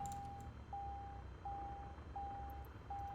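A warning beep in Microsoft Flight Simulator, flying bush-pilot missions: five evenly spaced, steady tones repeat over a low, constant engine drone.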